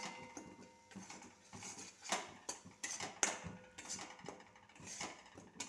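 Spices being stirred and sautéed in a pan with turmeric, cumin powder and salt, giving soft irregular scraping and clinking strokes of a spatula, close and fairly quiet.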